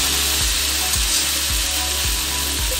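Okra (bhindi) sabji cooks in a pan with a constant loud hiss and sizzle, while dull low knocks repeat at a regular rhythm roughly every half second underneath.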